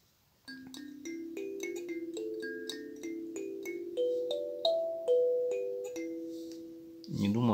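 A handmade birch wood kalimba plucked note by note, a clear run of bright metallic tines ringing and overlapping, rising in pitch, close and fairly quiet, ending in a brief rustle.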